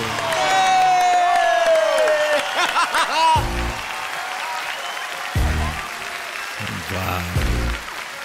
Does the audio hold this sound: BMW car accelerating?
no